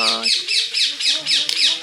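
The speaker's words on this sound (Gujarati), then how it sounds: "જો આવ્યો પોપટ" A parrot squawks in a quick, even series of about seven loud, close, harsh calls.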